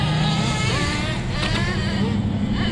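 An HPI RS4 nitro RC car engine revs hard in a continuous high buzzing whine, loud and close, with the pitch wavering slightly as it runs, and a voice briefly underneath.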